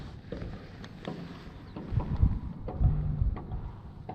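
Strong wind gusting across an open reservoir shoreline during a bass fishing outing, a steady low rumble of buffeting against the microphone that swells into louder gusts midway.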